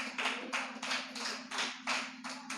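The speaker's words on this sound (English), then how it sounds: "give Him a clap offering" A church congregation claps in a rhythmic series of bursts, about eight evenly spaced claps with a steady low hum beneath, moderately faint.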